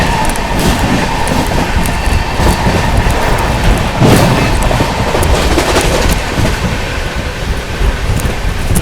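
The New Delhi–Gaya Mahabodhi Express runs through Bharatna station without stopping: a loud, steady roar of wheels with rattling, clattering carriage noise throughout, heard at close range with no voices.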